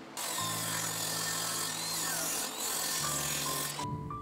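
Power saw cutting through old boards that contain nails, a loud sustained whine that dips briefly mid-cut and then resumes before stopping, no voices.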